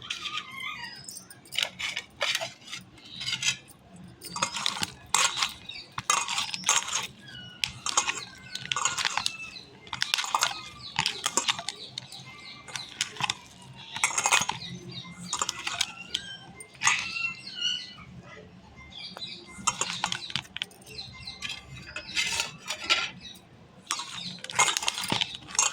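Fish ball mixture being mashed together with fried masala in a bowl, giving wet squelching and pressing bursts in an uneven rhythm, close and moderately loud, with no talking.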